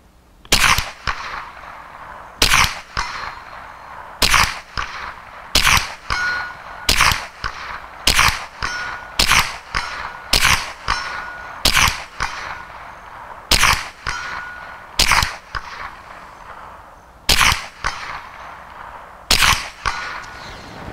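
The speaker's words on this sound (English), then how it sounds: "So I'm sitting there ringing the gong at 100 yards." Repeated sharp shots from a Marlin Model 60 rifle, each followed by the metallic ring of a steel gong struck at 100 yards, about a dozen evenly spaced reports, loud and close.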